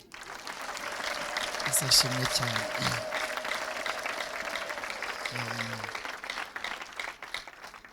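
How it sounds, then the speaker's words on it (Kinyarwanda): A church congregation claps for Jesus in brief scattered bursts, moderately distant, while a preacher keeps speaking over the room. "tugaha Yesu amashyi"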